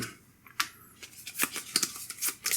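Someone shuffles cards during a tabletop game of Legacy of Yu, making a string of soft, quiet riffles and snaps close by with short pauses between them.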